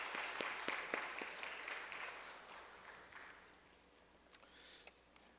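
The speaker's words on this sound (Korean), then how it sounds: "우리 귀한 아들 다시 한번 큰 박수 주십시오" Scattered applause from a church congregation, bursts of clapping that thin out and fade, fairly quiet and somewhat distant.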